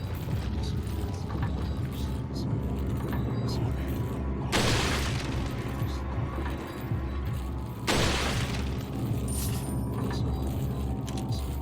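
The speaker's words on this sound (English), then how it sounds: "I used nothing but the rifle for this section." Rifle fire in Resident Evil 4, chapter 3-1 on Professional difficulty: two sharp, loud shots several seconds apart that ring out over a steady, busy game soundscape.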